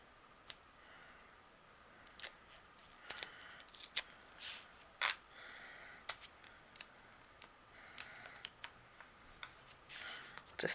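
Scissors trim a paper card piece in short, quiet snips and clicks scattered irregularly across a soft background.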